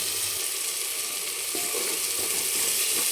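Ginger and garlic sautéing in hot oil for a mutton curry, a dense continuous sizzle heard close up, with a faint clink or stir near the middle and no speech.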